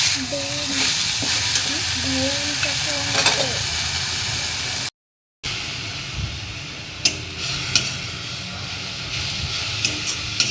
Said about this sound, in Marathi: आता ते हलवायचं